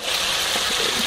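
Liquid pours into a cooking pot for foufou banane, a steady hissing gush close by that runs unbroken for about a second.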